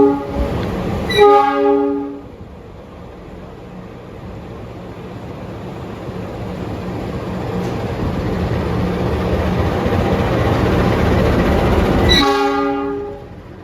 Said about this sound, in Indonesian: Ini ada langsiran lokomotif CC206.